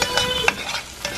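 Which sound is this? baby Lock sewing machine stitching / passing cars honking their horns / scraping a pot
scraping a pot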